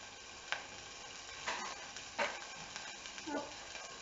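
Finely chopped shallots sauté quickly in a hot pan over high heat, a soft steady sizzle with a few brief scraping stirs breaking through at intervals.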